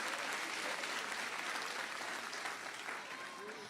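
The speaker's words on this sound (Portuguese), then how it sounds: "Olha como é que o aplauso fica fraquinho." Audience applause in a church setting, a dense wash of clapping that stays steady and thin, easing slightly toward the end, with a faint voice beneath.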